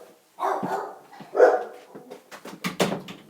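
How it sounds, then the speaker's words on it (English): Dogs barking indoors in a house, several rough barks and yelps rising in a cluster toward the end, fairly close and moderately loud, with no talking over them. "the dogs are barking"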